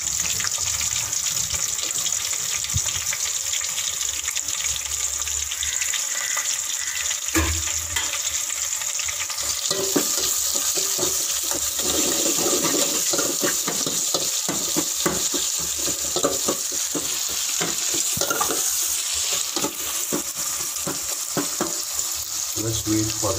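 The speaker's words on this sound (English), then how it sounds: "And then we are going to fry the onions," Onions frying in a pan for a simple fish curry, a steady broadband sizzle running throughout, with frequent sharp clicks and scrapes from stirring and a brief splash of tap water near the middle.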